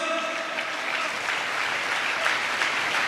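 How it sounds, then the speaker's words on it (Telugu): A church congregation claps together during worship, a dense steady patter of many hands that holds at an even level without pause. "చప్పట్లు కొడుతూ స్తోత్రాలు చెప్దాం."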